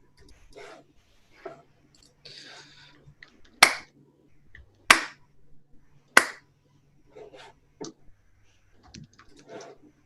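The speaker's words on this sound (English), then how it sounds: "So clap is delayed about a full half second." Three sharp, loud hand claps spaced about a second apart during a livestream delay test, with quiet speech and soft clicks before and after them.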